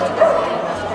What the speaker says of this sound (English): Those little dogs.